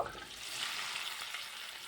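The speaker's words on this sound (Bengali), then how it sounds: "আলুগুলোকেও ঠিক একইভাবে ভেজে নেব" Boiled, cut potatoes frying in a kadai give a soft, steady sizzle that holds evenly throughout at modest volume, with a brief louder rustle at the very start.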